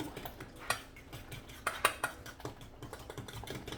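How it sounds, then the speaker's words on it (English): Bananas are stirred and mashed in a bowl, giving a string of soft clinks and scrapes of a utensil against the bowl. Some knocks are a little sharper, all heard fairly close and quiet. "I want to make sure I get this stirred up really good, and I mash my bananas in there"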